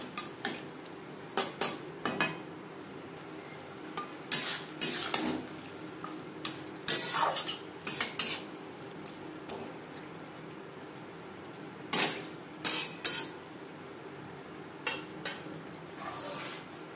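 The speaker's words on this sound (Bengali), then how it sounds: "আর দিয়ে দেবো মশলা ধোয়া জল, যাতে পুরো মশলাটাই অ্যাড করতে পারি।" A simmering silver carp curry has spice-rinse water added and is stirred, giving quiet, irregular clinks and scrapes of a utensil against a metal pot, in short bursts and separated by gentle background bubbling.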